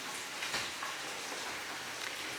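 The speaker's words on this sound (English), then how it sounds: "It's still raining non-stop." Heavy tropical rain falls without pause in Samaná, Dominican Republic, making a steady, even hiss, faint and dense, with no voices.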